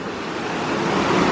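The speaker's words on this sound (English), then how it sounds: "This beautiful little stream right here," A small stream at Cheaha High Falls in Alabama, on a backpacking trip, gives a steady broadband wash of flowing water that stays close and even throughout, with no voices.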